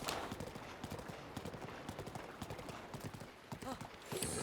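Horse hooves from Zelda: Breath of the Wild clop in a steady galloping rhythm, close and moderately loud, with a player talking over the game audio.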